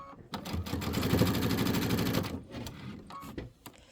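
A sewing machine backstitches while piecing a quilted pillow top, running in a steady rapid chatter for about two seconds, then slowing into a few short bursts with soft handling noises after.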